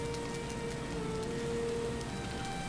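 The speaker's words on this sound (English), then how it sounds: "The rain." Steady rain patters down in the survival game Valheim, a dense, even hiss with faint tonal hums from the game underneath, constant and unbroken with no talking.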